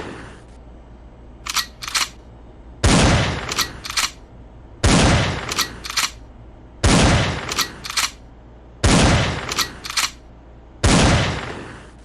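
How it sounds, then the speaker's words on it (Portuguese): Loud gunshots in a zombie video game boom in regular bursts about every two seconds, each followed by short sharp clicks, with no voices in between. "Percebam que ele teve que dar vários tiros"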